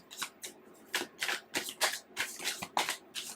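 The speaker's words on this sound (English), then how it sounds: "I literally just shuffled these cards" Tarot cards being riffle-shuffled by hand, a rapid series of about a dozen crisp, papery bursts in an uneven rhythm, close and clear with no talking.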